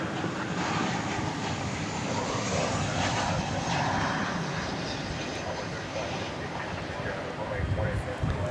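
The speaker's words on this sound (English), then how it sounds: "Let's get the turn of the Eva Air Cargo here, getting that nice, fresh, new livery" An EVA Air Cargo freighter taxiing at DFW Airport hums with a steady jet engine roar and low rumble, rising and falling slightly, with a person talking over it.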